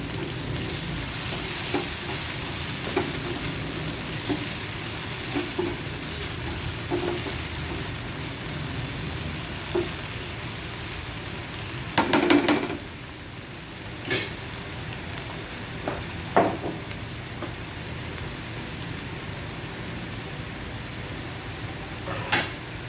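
Shrimp fry in heated oil with a dense, continuous crackling sizzle close by, broken by a few louder stirring scrapes and clatters, no voices.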